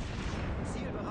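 A naval gun fires in a warship video game, one heavy, loud, rumbling boom that fills a brief moment.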